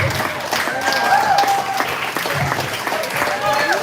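A comedy show audience applauds while a voice talks and calls out over the clapping, all close and busy for a few seconds.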